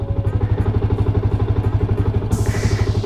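An older Yamaha Vixion motorcycle engine, fitted with modified parts, idles steadily after a single kick start. The close, loud, rhythmic low chug continues throughout, and a brief hiss rises near the end.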